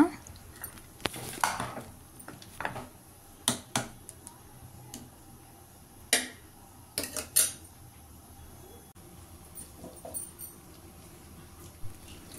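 Ingredients mixed in a cooking pot, with a spoon clinking and scraping against the metal in irregular, fairly close bursts and quiet pauses between them.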